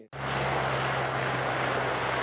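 A C-130 search aircraft drones overhead with a steady, loud propeller hum and broadband roar that starts abruptly and holds constant, with no voices.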